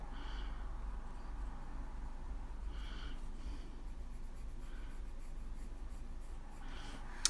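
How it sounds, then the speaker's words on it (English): Colored pencils scratch steadily across good-quality coloring paper in a soft continuous hiss, with faint brief strokes standing out now and then. "The pencils just glide on, no need to press."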